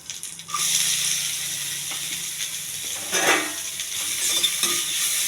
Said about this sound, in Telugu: కొంచెం దోరగా వేయించాలండి, మాడకుండా.